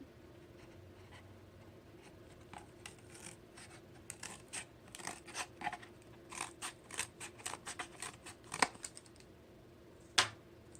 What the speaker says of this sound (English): I just take some of this cardboard and cut it